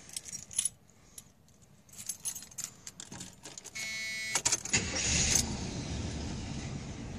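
A 1973 Chevy Caprice hardtop with a 400 engine: keys jingle, then the engine catches and settles into a steady, fairly loud idle for the last couple of seconds.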